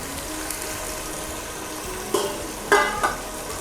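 Mutton and tomatoes frying in a pan: a low steady sizzle runs throughout, broken near the end by a few sharp scraping clinks as a utensil stirs and knocks against the pan.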